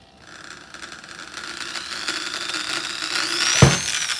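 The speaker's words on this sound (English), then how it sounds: "That's how you drill a hole in the table." A small drill bit bores a hole into a table for a pop rivet, a rising whirring whine building over a few seconds and catching with a brief grinding bite near the end, close and alone.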